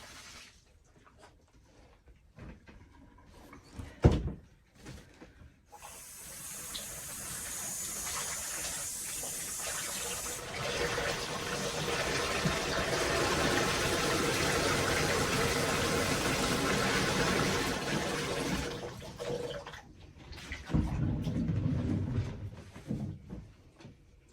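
Food is rinsed under a running kitchen tap, a steady rushing flow of water that lasts about fifteen seconds, with quieter clattering and handling sounds before and after.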